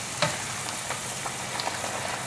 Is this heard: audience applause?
no